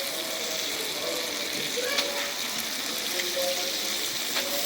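Eggplant and potato dropped into a pan of cooked-down spice paste with green chillies for a Manikganj-style chorchori, giving a steady loud hiss and sizzle with faint clinks, no talking.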